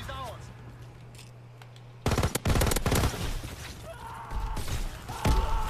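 Incendiary shells fired in the video game Call of Duty WW2, a sudden burst of several loud sharp shots after a quiet stretch, then more cracking blasts and a final hit.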